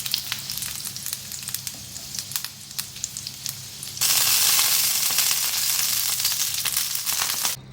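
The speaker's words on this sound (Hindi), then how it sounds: "ये दूसरे वाले कबाब भी मैं इसी तरह फ्राई कर लूँगी।" Chicken seekh kebabs frying in a pan, a soft steady sizzle with scattered crackles that swells into a loud, dense hiss halfway through and continues to the end.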